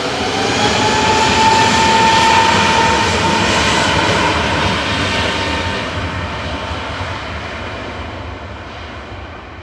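Departing airliner in Neo livery, Manchester Airport, flight to Antalya, roaring loudly through a steady broadband engine rumble that peaks early and slowly fades as it climbs away.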